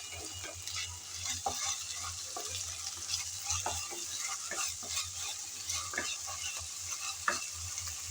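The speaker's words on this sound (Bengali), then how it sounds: "আদা আর রসুন বাটা পেঁয়াজের সাথে নেড়ে চেড়ে হালকা করে ভেজে নিয়েছি" Ginger-garlic paste being fried with onions in a pan, stirred with quick repeated scrapes over a continuous sizzle, close and fairly quiet, with no voices.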